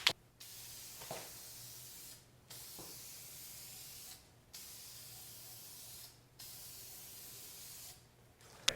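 Bursts of aerosol spray paint mist onto car tail lights to tint them, four or five long hissing sprays separated by short pauses, close and steady.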